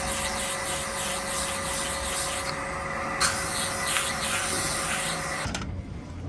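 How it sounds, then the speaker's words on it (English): Handheld power sander running steadily on thumb pieces in a shop, a continuous close whirring grind with shifting rubbing texture, cutting off near the end. "let's go ahead and sand these out."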